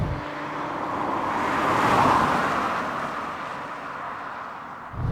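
A Fiat Multipla drives along in a high gear, a steady close road and engine whir from inside the car that swells and eases gently, with no one talking.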